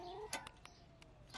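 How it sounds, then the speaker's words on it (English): Backyard chickens cluck faintly in a garden, a few short clucks and a brief squawk scattered over quiet background noise. "I spoil these chickens so much by giving them food all the time"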